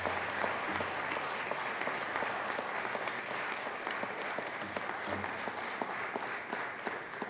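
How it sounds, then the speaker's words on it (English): A Colorado Senate chamber fills with sustained, dense applause for emergency response chaplains, a steady roar of many hands clapping from start to finish with no voices over it. "So please, let's all give them a round of applause."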